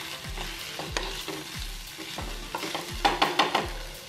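Potato bhaji with coriander is stirred in a pan: a spoon scrapes in regular strokes about every half second over a low sizzle, the scraping growing busier toward the end.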